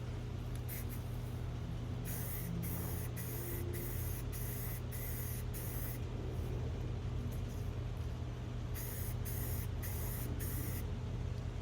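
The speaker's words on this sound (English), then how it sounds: "No masking needed on this, so let's get spraying." Spray paint hisses from an aerosol can onto Kawasaki KE175 motorcycle parts, the airbox and rear fender, in a series of short, even bursts with brief gaps, steady and close over a constant low background hum.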